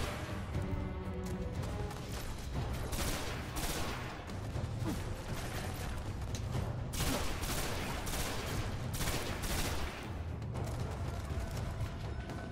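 Sustained machine gun fire in the sci-fi shooter Destiny, dense rapid bursts layered with explosions and crashes, loud and continuous with brief dips between volleys.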